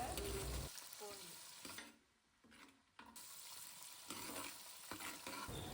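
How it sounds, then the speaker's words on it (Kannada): Chopped onion and tomato sizzle and fry in hot oil for a banana stem curry, with stirring scrapes and a brief quieter dip midway before the steady crackle returns, close and moderately loud. "ಇವಾಗ ಇದಕ್ಕೆ ಕಟ್ ಮಾಡ್ಕೊಂಡಿರೋ ಆನಿಯನ್ ಮತ್ತು ಟೊಮೆಟೊನ ಸೇರಿಸ್ಕೊಂಡು ಅದನ್ನು ಚೆನ್ನಾಗಿ ಫ್ರೈ ಮಾಡ್ಕೋತಾ ಇದ್ದಾರೆ"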